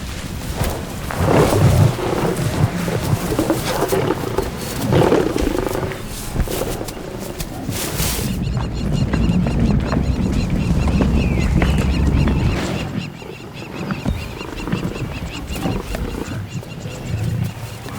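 Lions growling and roaring over a buffalo kill on the savannah, a loud, continuous, rumbling mix of deep snarls and heavy breathing that drops briefly in volume partway through before building again.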